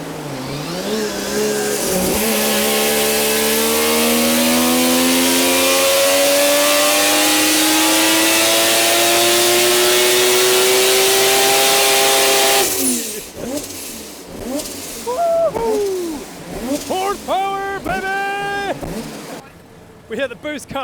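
Mazda 20B three-rotor rotary engine with a G45-1500 turbo, tuned for a 1000hp Corvette, revs hard on a dyno, its loud rising drone climbing steadily for about twelve seconds before cutting off at boost cut, followed by choppy sputtering blips and voices talking.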